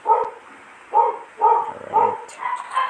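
Indoor dog barking close by: about six sharp barks in a steady, evenly spaced rhythm, loud and with no talk over them.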